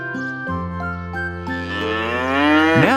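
A cartoon cow lets out one long, loud moo that bends upward in pitch toward the end, close and alone.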